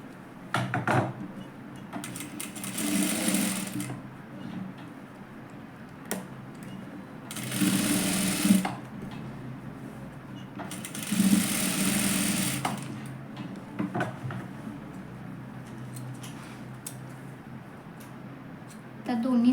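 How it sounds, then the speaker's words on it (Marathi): Sewing machine stitching seams on a katori blouse, running in three bursts of a few seconds each with quieter handling sounds between, close up while someone talks. "ह्याच लाईनवर शिलाई मारून घ्यायची. ती मी तुम्हाला दाखवते. त्याच्याच वरती डबल शिलाई पण मारून घ्यायची"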